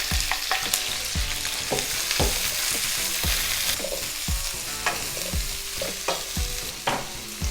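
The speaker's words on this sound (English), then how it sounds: "So over medium-high heat, I'm gonna put in all my veggies." Vegetables stir-fried in oil in a pan over medium-high heat for chicken cashew nut, a continuous loud sizzle with repeated sharp scrapes and knocks of a spatula at a steady rhythm, close up.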